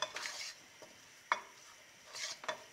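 Garlic sizzling in a pan for risotto, a soft steady fry broken by a few sharp scraping stirs and light clinks of a utensil against the pan, no talk.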